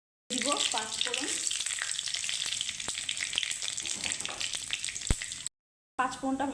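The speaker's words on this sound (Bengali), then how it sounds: "পাঁচফোড়নটা ভাজা হয়ে গেছে" Panch phoron spices and torn bay leaves fry in hot mustard oil in a kadai, giving a continuous crackling sizzle with scattered sharp pops. A brief silence near the end is followed by more sizzling.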